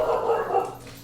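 Several dogs bark in a room during a tabletop miniatures game, a short burst of loud, close barking with some voice mixed in.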